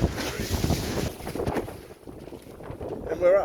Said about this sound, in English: I think we've got some wind, so hang on tight.